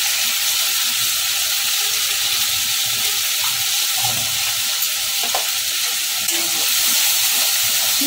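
Potatoes and spices sautéing in a pan for a vegetarian Bengali banana-flower dish give a steady, close frying hiss with occasional faint stirring scrapes, continuous throughout and without talk.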